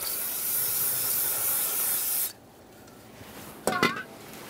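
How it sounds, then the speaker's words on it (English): Parts cleaner sprays from an aerosol can onto a rag during intake gasket work on a 2011-2020 Toyota Sienna 3.5L V6, a loud hiss lasting about two seconds, then quiet and a short clatter of handled parts. "Just use our parts cleaner on a rag here."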